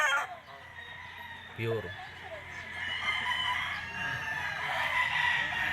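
A pure White Kelso straight-comb gamefowl rooster on a gamefarm crows in a drawn-out call at moderate distance, while someone talks nearby.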